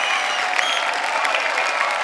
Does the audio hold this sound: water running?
no